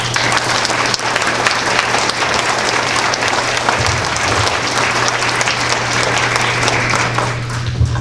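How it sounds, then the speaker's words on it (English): A forum audience gives sustained, dense applause for the candidates, a loud, even wash of clapping from a large crowd that holds steady throughout. "let's give a big round of applause for our candidates"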